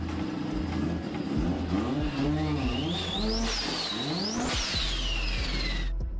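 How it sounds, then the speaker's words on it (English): A turbocharged street-racing car revs hard, its engine pitch sweeping up and down through gear changes with a rising turbo whine and fluttering release, loud and close throughout. "Turbos can be heard with this distinct flutter sound, like a mini turbine engine being charged up."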